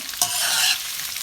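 Green chilies being stirred into a pan of frying mutton for a black pepper roast: a short scrape of the spoon over a steady close sizzle, no voices.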